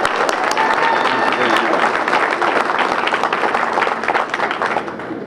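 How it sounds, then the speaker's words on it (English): Audience applause at an airport announcement event, a dense, sustained burst of many hands clapping with crowd noise that holds steady and then starts to thin toward the end. "we have to give a big round of applause to Chris Minner"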